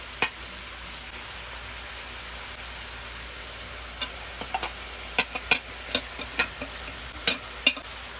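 Rice and glutinous rice being stirred in a pot with fish sauce for chicken arroz caldo, starting as a faint background hiss, then a series of close, crisp scraping taps of the spoon in an irregular rhythm.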